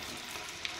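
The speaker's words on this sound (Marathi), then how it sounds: "मंचुरियन बॉल फ्राय करताना फ्लेम हे थोडी मोठी ठेवा व तेल तापल्यानंतर गोळे टाका" Veg Manchurian balls fry in hot oil with a soft, steady sizzle and light crackle, a brief faint close-up burst with no talking.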